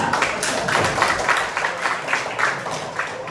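A class of students claps in a two-beat pattern, with the paired claps repeating in a loose rhythm across a few seconds from a whole room of hands, fairly loud and without talk over it.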